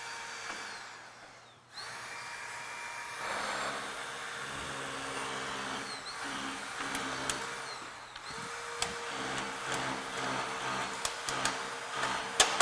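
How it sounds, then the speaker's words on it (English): Hydraulic rescue spreaders pushing a car's steering column aside during a vehicle extrication, a steady mechanical whine and hum of the power unit with scattered creaks, clicks and metal snaps, moderately loud and continuous. "So Bobby, go ahead and come on up with your spreaders."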